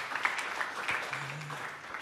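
A church congregation claps during a sermon, a moderate, fairly soft burst of applause with a few distinct claps, heard throughout at an even level.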